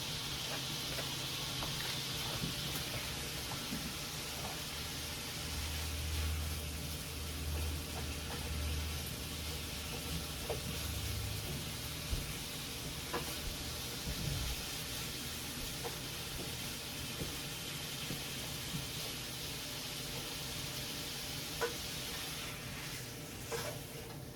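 Steak frying in a pan for pepper steak gives a continuous sizzle and hiss with scattered crackles and occasional stirring clatter, sustained up close for over twenty seconds without speech.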